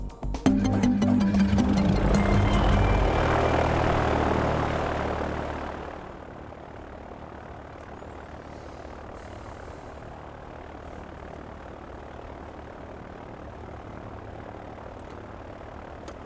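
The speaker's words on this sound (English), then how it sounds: "This next scenario could be used during an engine run-up before flight." A light aircraft engine at high power during a pre-flight run-up, a loud propeller drone that dies away after about six seconds, leaving a quieter steady hum.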